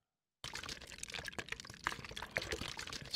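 Concrete pouring into a foundation in a building video game, heard as a sudden sloshing, splashing liquid rush that starts abruptly and keeps flowing unevenly with bubbly bursts, loud and continuous with no talk.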